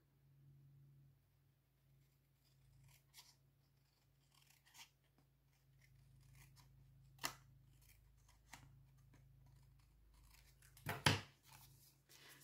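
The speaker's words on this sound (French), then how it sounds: "je vais à l'aide de mes ciseaux, tout simplement, je vais couper le long du carton" Scissors cutting along cardboard: quiet, sparse snips and scraping close by under a low steady hum, ending in a louder crunchy cut near the end, with no talking.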